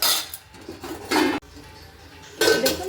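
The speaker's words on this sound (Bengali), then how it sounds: "আমি এবার এটাকে আরেকবার নাড়াচাড়া করতে থাকবো" A Bengali-style meat curry stirred in a metal pot, with a few bursts of spoon scraping and clinking against the pot separated by short quiet gaps, near and fairly loud with no voices.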